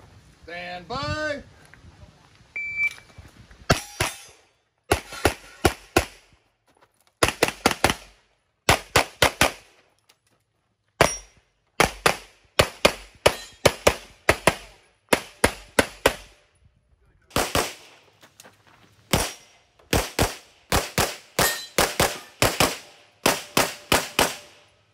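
Gunshots ring out on a practical shooting competition stage at Great Plains 2020, sharp loud bursts fired in quick strings and rapid groups, separated by short pauses, close and crisp with a brief voice near the start.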